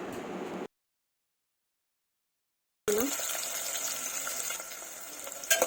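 Chopped onions hit hot oil with frying cumin for a mutton curry, setting off a loud, hissing sizzle after a few seconds of silence; the crackle stays steady and close, with a few sharper pops at the end.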